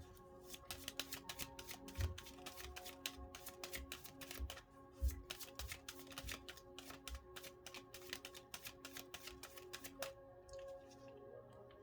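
Tarot cards are shuffled in a rapid run of crisp riffling flutters and light slaps, close and fairly quiet, going on steadily for about ten seconds before trailing off.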